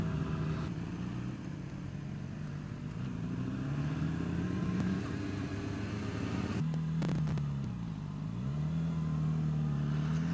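A motorcycle engine revs and drones steadily close by as a rider practises wheelies, its pitch rising and falling in waves with a brief throttle burst partway through, loud and continuous with no talk.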